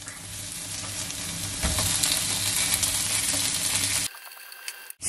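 Pork sizzling loudly in a hot pan with onion and garlic, a dense steady frying hiss with stirring, close and continuous for about four seconds before cutting out.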